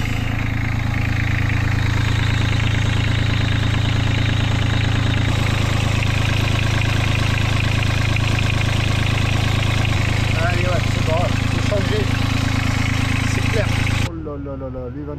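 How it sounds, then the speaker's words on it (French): A boat motor runs at a steady idle just after starting, a low constant rumble that continues throughout, with a voice speaking briefly near the end. "Je viens de démarrer le moteur."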